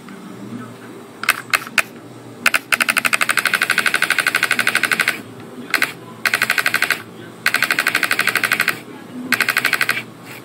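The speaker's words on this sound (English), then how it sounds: "It's full auto." A gun firing on full auto in long rapid bursts, opening with a few single shots, then several sustained strings of fast, evenly spaced loud reports separated by short pauses, close by with no talking.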